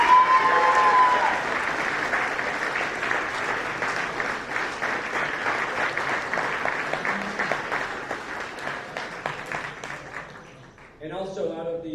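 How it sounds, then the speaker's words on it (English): A big, loud round of applause for varsity team captains at a school sports award ceremony fills the room, steady and sustained, then trails off near the end as a voice starts speaking. "I want to have a really loud round of applause for our varsity team captains."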